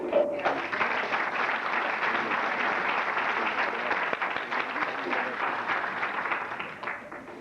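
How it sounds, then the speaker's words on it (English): Steady, dense applause from a large graduation audience fills the whole stretch at an even level, tapering slightly at the end. "Have another big round of applause."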